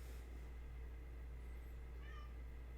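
A pet cat meows a few times indoors, the calls faint against a steady low background hum.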